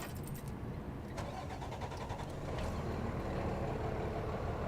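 Ignition key turned in a new 2022 Freightliner M2 106 Summit Hauler truck, the starter cranking briefly before the engine catches and settles into a steady, loud idle close by.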